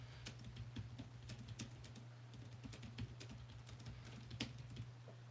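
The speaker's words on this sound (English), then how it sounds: "This is the worst live stream ever because I'm doing this typing." Message typed on a computer keyboard for WhatsApp Messenger: quick, irregular, faint key clicks that continue over a low steady hum, with no talk.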